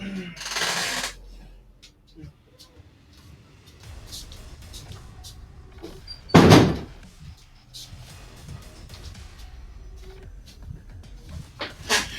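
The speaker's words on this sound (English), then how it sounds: "Had to shut that door." An indoor door is pushed shut with a single loud thud midway through. Quiet shuffling and a few soft knocks and taps come before and after it, and a voice speaks now and then.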